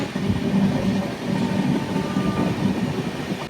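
A Charlapalli to Kakinada special express train slows near Ghatkesar station, with a steady rumble of wheels and carriages heard from on board, continuous with no talk.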